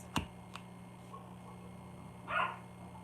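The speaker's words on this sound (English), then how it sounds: "Silly dogs." A couple of short, sharp dog barks sound early on, followed later by a brief muffled yelp, fairly near in a quiet room with a low steady hum underneath.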